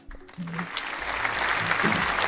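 A small group applauds a talk show co-host, clapping that swells after a brief start and continues steadily, with voices and low musical tones running beneath.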